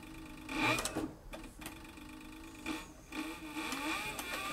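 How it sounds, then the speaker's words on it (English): Cowboy CB4500 leather sewing machine driven by a servo motor, stitching slowly in a steady whirring run that pauses briefly and restarts, heard alone at moderate volume. "I like this servo motor because you can just really slow it down and concentrate on sewing right in the groove."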